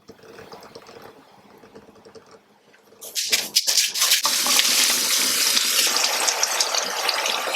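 After a quiet stretch of faint handling noise, a kitchen tap opens with a few bursts and then a loud, steady rush of cold water runs over parboiled rice being washed.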